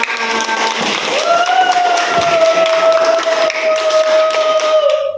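Classmates in a classroom clap together in steady, continuous applause lasting several seconds, with a sustained tone or whistle-like sound running over the claps.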